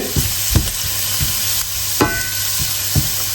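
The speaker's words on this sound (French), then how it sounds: "j'ai mon ail et mon gingembre en train de griller" Steady sizzling of garlic and ginger frying in a pan over medium-high heat, with occasional soft clinks and scrapes of stirring at a moderate, uneven pace.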